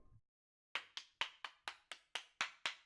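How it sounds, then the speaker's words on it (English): Applause sound effect from the Steins;Gate 0 visual novel: nine crisp, evenly spaced hand claps after a short silence, close and fairly loud, with no voices. "He started to applaud."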